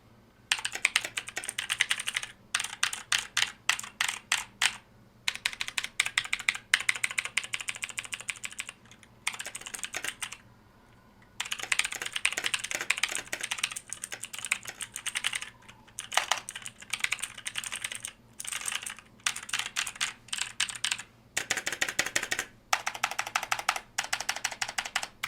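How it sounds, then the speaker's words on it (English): Clicky mechanical keyboard typing on a Tesoro Excalibur gaming keyboard with Kailh blue switches, in rapid bursts with short pauses between runs of keystrokes, close and crisp. "my Tesoro Excalibur gaming keyboard with Kailh blue switches in them"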